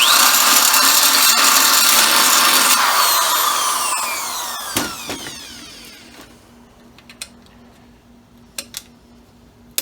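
A power drill bores out a hole in metal during fabrication of a shifter riser for a 1936 Chevy coupe, whining loudly and steadily before spinning down, followed by faint clicks and taps of handling.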